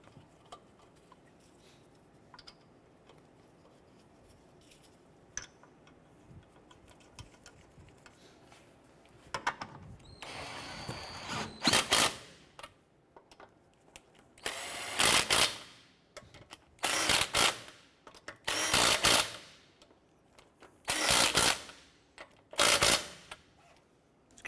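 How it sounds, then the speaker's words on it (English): Lug nuts on a 2008-2012 Honda Accord wheel being snugged down, heard as about half a dozen loud, harsh, buzzing tool bursts with short pauses between them, after quiet handling at first. "Once these are all on, I'm going to go ahead and snug them down."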